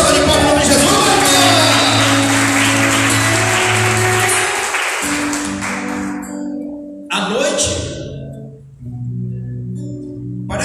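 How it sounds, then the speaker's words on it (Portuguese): A church congregation applauds at a Portuguese-language sermon, broad sustained clapping for about six seconds with music tones underneath, then fading as the room quiets and a voice returns. "Dá uma salva de palmas em nome de Jesus."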